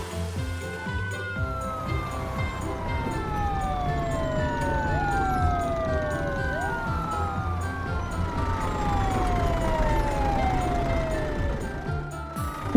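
Toy emergency vehicles, an ambulance, a fire truck and a police car, sound their sirens together, overlapping electronic wails sweeping down repeatedly in pitch, fairly loud and continuous over a busy background.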